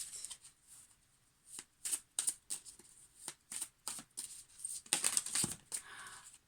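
A deck of Shaman's Oracle cards is shuffled up close, quick papery riffles and slaps coming in repeated short bursts with brief pauses between them.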